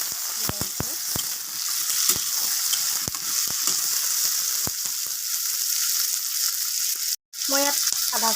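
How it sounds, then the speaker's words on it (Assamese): Chopped tomatoes frying in a pan for an Assamese kothalor musi, a steady close sizzle with sharp utensil clicks and scrapes throughout, then a brief cutout and a few stirring knocks near the end. "মই আকৌ এইখিনি ভাজি ল'ম বিলাহীখিনি।"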